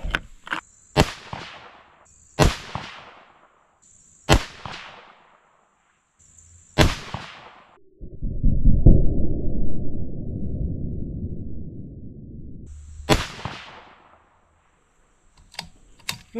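6ARC rifle firing 109 grain load test rounds outdoors, a series of sharp, loud single gunshots spaced a second or two apart, each with a quick decaying tail, plus a longer rumbling noise midway.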